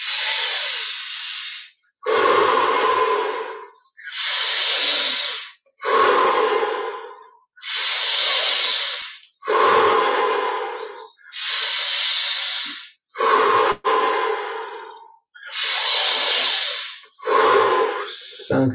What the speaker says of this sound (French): Une respiration encore avec un peu plus d'amplitude encore.